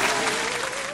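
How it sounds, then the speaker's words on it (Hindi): Audience clapping in a comedic Bollywood-style gymnastics show, a dense, steady wash of applause filling the whole short moment with a faint tone running underneath. "ठोको ताली"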